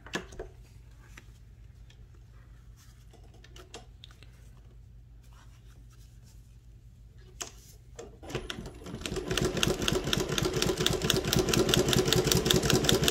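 Chainstitch embroidery sewing machine stitching down a patch, starting after quiet handling noises and then running as a rapid, steady, close mechanical whirring chatter that grows louder toward the end.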